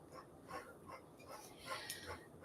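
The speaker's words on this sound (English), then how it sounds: "My dog" A dog gives soft, high whimpers and small yips in a short irregular series, close by and fairly quiet, in a home kitchen during a cooking session.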